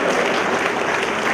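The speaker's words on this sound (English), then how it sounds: "Give him a round of applause for that." Dense, loud audience applause fills a conference hall at an HR conclave at a management school, steady throughout the short burst.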